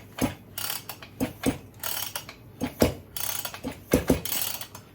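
The recoil starter of a ported Husqvarna 55 chainsaw is yanked repeatedly, giving rhythmic, close ratcheting bursts roughly every half second while the engine turns over without catching.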